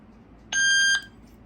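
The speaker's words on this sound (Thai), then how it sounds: "กด รีเซ็ตกล้อง กดค้างไว้จนมีเสียงร้องปี๊บนะครับ" A Yoosee security camera lets out a single steady electronic beep lasting about half a second after its reset button is held, clear and close against quiet room tone.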